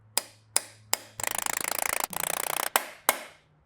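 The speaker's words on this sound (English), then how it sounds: "Let's try to hammer on an 11mm 1/4-inch socket." An 11mm 1/4-inch socket being hammered onto a bolt on a BMW, sharp separate metallic strikes split by two bursts of fast rattling impacts, close and clear.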